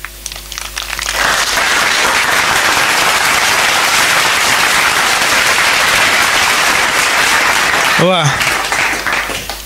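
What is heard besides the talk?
thunderous applause welcoming guest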